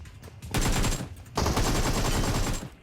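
Gunfire in the mobile battle royale game PUBG Mobile, two loud sustained bursts of rapid automatic shots separated by a short gap, close and sharp with no talking over them.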